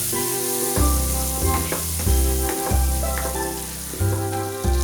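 Quail eggs dry frying with salt in a pan, a close steady sizzle broken by repeated loud clattering knocks and scrapes of the pan and spoon.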